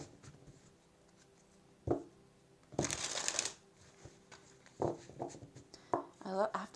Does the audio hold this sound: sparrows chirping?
no